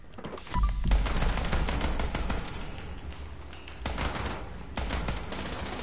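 Turrets open fire in the Fallout 4 video game, rattling off rapid bursts of gunshots in a dense, sustained barrage at moderate volume.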